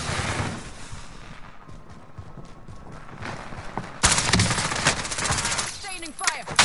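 Sustained gunfire in a Call of Duty multiplayer match builds into dense rapid bursts halfway through, loud and close over a busy battlefield din, with voices talking under it.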